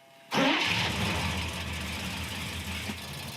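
A gasser Chevy's engine cranks briefly, then catches and roars to life, settling into a steady, fairly loud idle.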